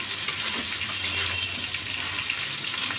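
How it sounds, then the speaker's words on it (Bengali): Water poured into a cooking pan with sajne flower curry, a steady close splashing gush lasting a few seconds. "এবার সামান্য জল দেব। সামান্য জল দিয়ে দেব।"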